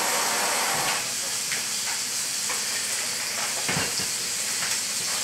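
Bacon strips frying in a pan give a steady, loud sizzle and hiss throughout, with faint crackles and stirring sounds mixed in and no clear talking.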